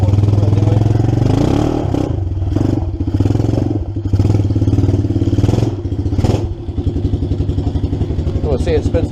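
A 1982 EZ-GO three-wheeler fitted with a new 2014 420cc Predator engine runs loudly and steadily up close, its rough mechanical chug broken by clattering and a few surging revs.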